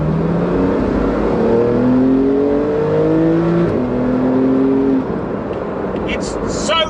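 A Porsche GT2 RS driven on a wet public road, its engine note rising steadily through gears with smooth climbing tones, heard loud and close from inside the car over a constant rumble and road noise.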